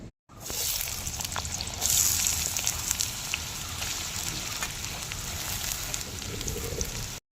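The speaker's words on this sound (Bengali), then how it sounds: "সবজিগুলি ভেজে নেব।" Vegetables sizzle and fry in hot oil in a wok, a loud continuous hiss and crackle, close by, with occasional stirring clatter.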